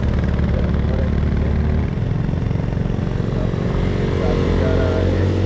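A motorcycle on a mountain road between Lachung and Zero Point, its engine a steady low rumbling drone that stays loud and close throughout without talk.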